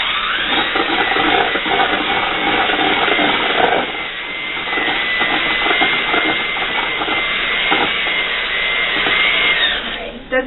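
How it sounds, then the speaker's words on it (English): An electric hand mixer's beaters whir steadily, loud and close, creaming cupcake batter in a bowl for about ten seconds before cutting off at the end. "Put my beaters on. And first I'm just going to beat this for a little bit just to get it creamy."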